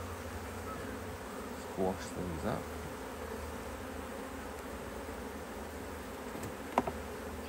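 A month-old swarm colony of honey bees hums steadily across the open hive while frames are handled, with a few soft knocks and someone talking quietly now and then.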